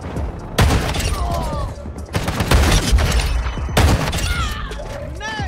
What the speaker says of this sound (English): Let's see if the shotgun can work it